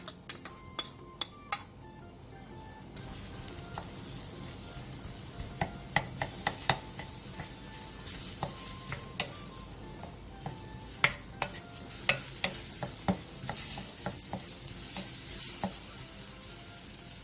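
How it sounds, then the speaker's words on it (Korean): Onion and minced garlic stir-fry in sesame oil in a pot over medium-low heat. A steady soft sizzle runs throughout, punctuated by frequent sharp scrapes and clicks of a utensil against the pot. No voices. "냄비에 참기름 2스푼, 다진 마늘 1스푼, 양파를 넣고 양파가 투명해질 때까지 중약불에서 볶아주세요."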